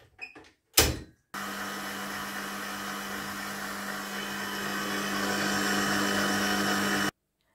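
An electric stand mixer whirs steadily as it kneads yeast dough, a constant close motor hum after a couple of brief knocks, running alone for several seconds before stopping abruptly.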